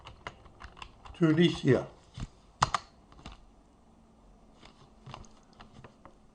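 Typing on a computer keyboard, a scatter of light, quiet key clicks spread through the stretch, with a brief burst of speech near the start.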